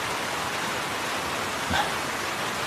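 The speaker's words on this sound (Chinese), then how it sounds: "下雨了" Rain falls steadily in a continuous, even hiss with no talking, broken by one brief soft knock near the end.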